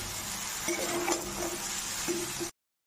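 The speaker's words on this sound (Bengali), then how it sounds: "এবার দিয়ে দিচ্ছি ভাজা আলুগুলো, দিয়ে 2 মিনিট আর একটু ভেজে মশলাগুলিও ভাজা হয়ে যাবে" Potatoes and spices sizzle and fry in a pan for a mixed vegetable dish, with steady close crackling and a few stirring scrapes, ending abruptly in a brief silence.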